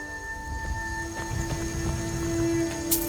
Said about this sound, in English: This rain will stop eventually. Always does.